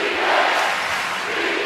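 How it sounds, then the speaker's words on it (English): A sold-out, wild home crowd chants for defense at a Wichita State men's basketball game against Cincinnati, a loud, dense roar of many voices filling the arena. "Chance of defense from this sold out wild crowd in Wichita"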